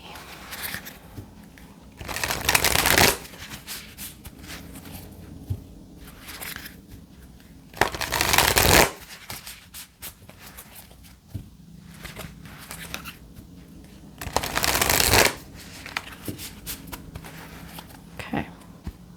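A deck of oracle cards is shuffled in three short, distinct bursts of rapid riffling, separated by quiet pauses with faint handling noises.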